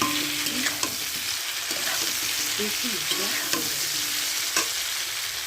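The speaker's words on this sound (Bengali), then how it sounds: "ফুলকপিটা যত ভাজবে তত কিন্তু তোমার টেস্টটা ফিরে আসবে।" Cauliflower frying in a pan gives a loud, steady hiss and sizzle throughout, broken by occasional scrapes of stirring, while a voice speaks briefly over it.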